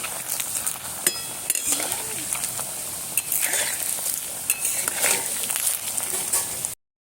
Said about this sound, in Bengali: আস্তে আস্তে আমি জাল দিয়ে ভাজছি